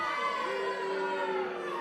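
A wrestling show crowd reacts to Ruby Manitoba with a sustained roar of cheering and shouting voices that holds steady and loud for the whole stretch.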